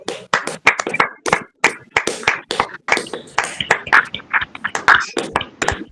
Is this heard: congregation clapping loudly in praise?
yes